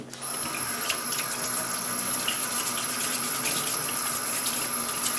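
Sweet potatoes being scrubbed with a scrub brush under a running kitchen tap, a steady close rush of water filling the sink with faint brushing and small knocks, no talking.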